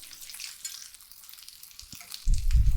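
Fish mince patties sizzling in a frying pan just after being flipped, a soft crackling hiss that swells into a louder, heavier sizzle near the end, with no talking.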